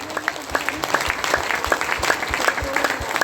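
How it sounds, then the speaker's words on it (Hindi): Audience clapping at a Delhi ashram gathering during a Gita Jayanti celebration, a steady burst of claps with sharp individual hand strikes close by and a faint hum underneath. "आ सकते तो जरूर ताली बजाओ।"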